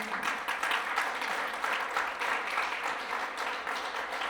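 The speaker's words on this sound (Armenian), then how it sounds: "Տուր Աստծուն բարձր ծափարություն" A church congregation applauds steadily and loudly throughout, a dense wash of many hands clapping with no pauses.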